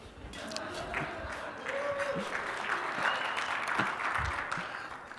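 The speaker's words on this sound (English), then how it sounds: "Keep clapping, I get some water." Sustained audience clapping at a lunch gathering after staff introductions, a full, even wash of applause with a voice faintly underneath and a brief tone near the start.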